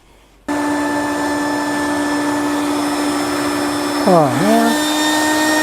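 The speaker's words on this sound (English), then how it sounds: "I sucked pieces of my my tile up in the vacuum." A vacuum cleaner starts up and roars steadily while it cleans a stove pipe elbow, the close, loud whine briefly changing pitch as debris gets sucked in, with a man's short exclamation over it.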